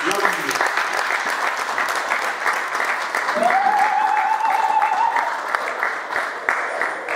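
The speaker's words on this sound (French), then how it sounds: "Si vous pouvez l'applaudir, l'applaudir." Audience applause at an international congress of Katumbi supporters and allies in Brussels, a sustained roomful of clapping at even volume from start to end, with a brief voice and a whistle-like tone cutting through midway.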